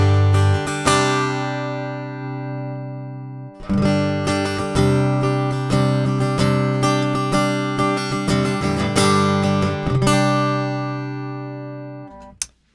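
Acoustic guitar played through a processed undersaddle pickup set to its bassier position, with sustained chords ringing out, a short pause, then more strummed chords and a final sharp pluck, close and clear.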